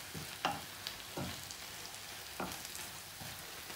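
Bolognese sauce with Worcestershire sauce sizzles in a frying pan while being stirred, giving a steady close hiss broken by four scraping spoon strokes at roughly even intervals, no talking.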